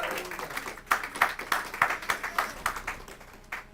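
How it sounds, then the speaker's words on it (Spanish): A church congregation claps in a steady rhythm of sharp, repeated hand claps, fairly close and moderately loud, with little talk over them. "denle un aplauso al Señor por ello."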